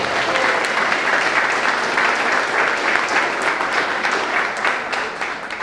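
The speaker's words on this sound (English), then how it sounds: "So can we give them a round of applause?" Crowd at a ribbon cutting ceremony applauding, a dense, loud and sustained patter of many hands clapping that carries evenly before tapering slightly at the close.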